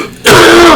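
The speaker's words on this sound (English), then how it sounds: "Do you hear me coughing?" A single harsh, close cough or throat clear bursts in suddenly after a short quiet moment, loud and raspy.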